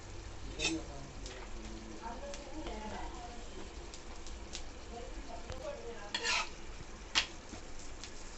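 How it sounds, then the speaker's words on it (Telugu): A palak chapati roasts on a hot pan with a steady low sizzle and occasional scraping or pressing sounds, plus a few brief louder bursts, and no talk. "పెన్నం హీట్ ఎక్కిందండి ఇప్పుడు మనం చేసుకున్న చపాతీ కాల్చుకుందాం"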